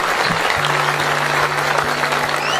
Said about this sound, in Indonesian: Tepuk tangan untuk Mas Andri.